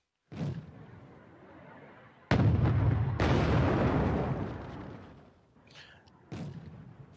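Artillery firing smoke rounds in the Wargame strategy game: a sharp boom, then a louder blast with a long rumbling tail, and a final thump, close and loud with no talk.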